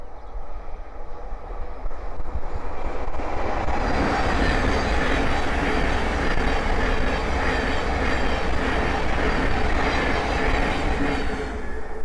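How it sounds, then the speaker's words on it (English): A Thameslink Class 700 electric train passes on the East Coast Main Line at Langford, its rumble building quickly into a loud, sustained roar of wheels and rail noise with rhythmic clatter close by. "the next train to pass by is a Thameslink 700 from Horsham to Peterborough."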